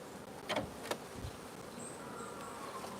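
Honey bees buzzing around a hive at an apiary: a faint, airy drone with a couple of louder buzzing passes near the microphone early on, then a quieter steady hum.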